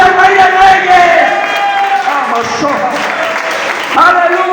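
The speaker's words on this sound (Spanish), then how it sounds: "Aplaude al Rey de Reyes." A church congregation claps and cheers for the King of Kings at a Spanish-language Sunday service, a dense, steady wash of applause with voices mixed in, loud and continuous throughout.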